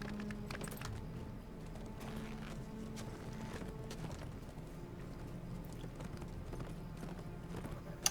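Horse hooves clip-clop in an irregular quick rhythm, faint and somewhat muffled under a low background rumble, with no talking.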